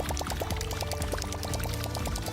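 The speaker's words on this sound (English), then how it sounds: "The Whopper Plopper is a topwater bait known for its unique spinning tail, which creates a plopping sound and surface disturbance as it's retrieved." A Whopper Plopper topwater bass lure is retrieved across the water surface, its spinning tail making a rapid, steady run of watery plopping and churning pulses, close and continuous throughout.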